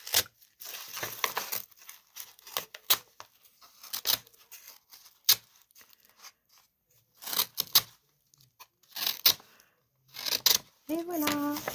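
Paper and plastic packaging crinkle and rip in short, scattered bursts with quiet gaps between, close by, with a brief voice near the end.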